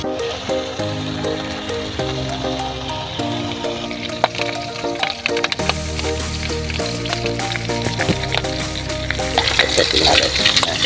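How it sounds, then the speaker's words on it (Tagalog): Pork belly sautés for adobo in a pan, a dense crackling sizzle with popping spatters that grows louder and busier toward the end, with steady stirring and a low background hum beneath. "Okay na yan, magigisa na tayo."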